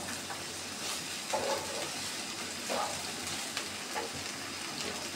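Half a kilo of okra frying in a pan, a steady soft sizzle with a few brief louder bursts as it is stirred, close by and with no talking.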